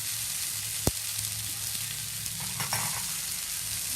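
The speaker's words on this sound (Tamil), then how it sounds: "வெங்காயம் நல்லா வதங்கின உடனே ஏற்கனவே உப்பு போட்டு வேக வச்ச பச்சை பட்டாணியும் அதோட போட்டுருங்க." Onions and boiled green peas sautéing in a pan for poriyal, a continuous close sizzle with a sharp spoon tap early on and a few light stirring scrapes, no talking.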